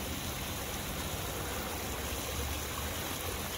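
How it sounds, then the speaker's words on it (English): A small stream running toward a waterfall beside an outdoor koi pond, heard as a steady, even wash of flowing water with no pauses, close and moderately soft. "It ends here at the stream that goes to the waterfall to the matrix bog"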